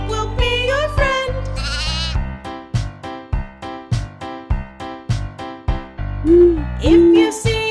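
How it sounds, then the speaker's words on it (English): Sheep bleats, wavering and nasal, rise over a bouncy children's farm-animal song with a steady plucked rhythm, a couple of loud bleats standing out near the end. "say ba ba and the sheep will understand"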